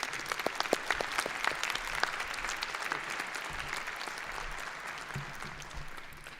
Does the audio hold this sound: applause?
yes